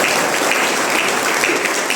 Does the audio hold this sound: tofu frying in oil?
no